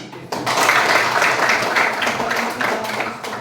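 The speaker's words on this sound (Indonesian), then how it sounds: "Ya, tepuk tangan." Applause in a classroom after a student's name is read, a loud close burst of many hands clapping that starts abruptly and carries on steadily to the end.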